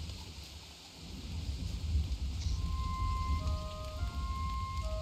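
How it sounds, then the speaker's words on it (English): Rain falling in Don't Starve Together, a steady close hiss of drops with a low rumble underneath and a few faint tonal game sounds. "the rain's keeping my meat from drying"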